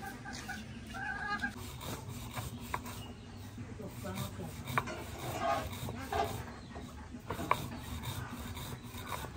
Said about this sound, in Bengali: এখন সরিষা গিলা মরিচের লগে বাটতেছি।